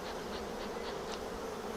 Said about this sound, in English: So if I smoke these bees away a little bit